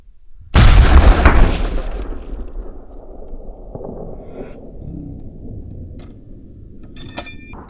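A hunting rifle fires one loud, sharp shot at an aoudad ram in Texas, and a long rumbling echo trails off afterward, with a few faint clicks near the end.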